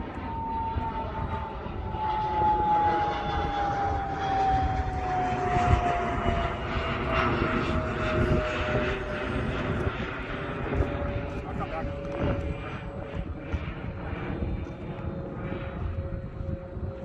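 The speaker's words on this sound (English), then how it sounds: "I'm going to toss it up, do a flight, and land with flaperons." E-flite Conscendo Evolution RC glider plane with flaperons flying at low throttle, a steady electric motor and propeller whine drifting gradually lower in pitch as it moves away, continuous and moderately loud outdoors.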